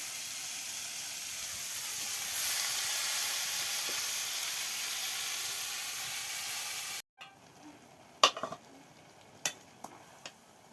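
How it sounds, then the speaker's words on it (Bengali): Water spinach greens (kolmi shak) frying with chopped chili, salt and spices in a pan: a steady, loud sizzling hiss for several seconds, then a sudden drop to quieter stirring with a few sharp utensil clinks against the pan. "শাকের ভাজিটা ভালো করে নেড়ে ভাজি ভাজি করে নেবো"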